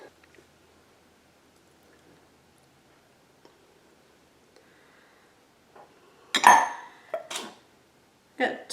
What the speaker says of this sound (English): we're going to add 1 egg beaten